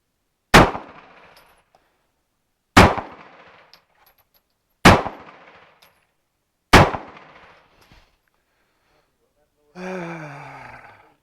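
A Star BM pistol fires four loud, sharp shots spaced about two seconds apart, each with a short decaying echo, followed by a brief breathy vocal sound.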